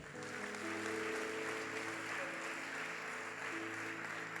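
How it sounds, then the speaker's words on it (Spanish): Church congregation applauding during a sermon, a dense continuous wash of clapping from many hands, fairly distant and even, with faint tones from an instrument underneath. "Dale un aplauso al Rey"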